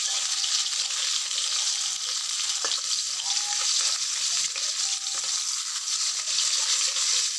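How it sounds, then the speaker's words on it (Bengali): Fish frying in hot oil in a wok, a steady, close, continuous hiss and crackle with faint bubbling and occasional light clinks, unbroken for the whole stretch. "এই মাছটা না ভ্যান হয়ে যায়, তাই ভাজতেও অসুবিধা হয়"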